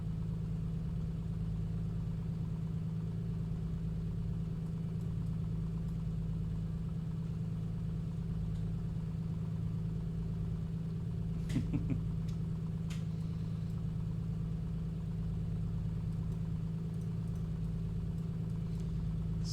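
Piper Comanche piston aircraft engine idling steadily in Microsoft Flight Simulator, a continuous low drone with a few faint clicks near the middle and no talk.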